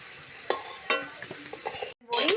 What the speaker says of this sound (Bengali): ডালের বড়িটাও ভালো করে ভেজে নেব